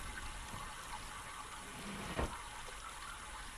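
Steady flowing water in the puzzle game Myst, a continuous soft rushing wash with one brief thud partway through, alone without talk.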